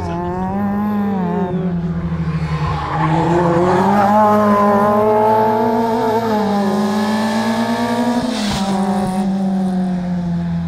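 A rally-prepared Abarth 595 or Fiat Seicento engine heard from outside the car, loud and sustained at high revs with pitch rising and dipping through gear changes and corners, no talk over it.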